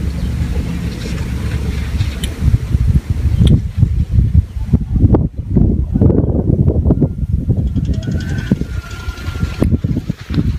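Strong wind gusts across open rice paddies beside a traditional Sundanese stilt house, a loud, steady buffeting roar with surging bursts throughout, close to the microphone and with no talking.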